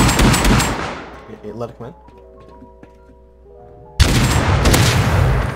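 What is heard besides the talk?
gunfire in Rust video game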